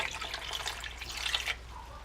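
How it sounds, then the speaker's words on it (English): Water is dumped from a can into a cooking pot for homemade vegan dog food, a soft splashing pour lasting about a second and a half before it stops, fairly quiet and with no talking. "Fill the can up with water and just dump that in."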